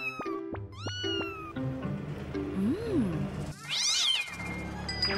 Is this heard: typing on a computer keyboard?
no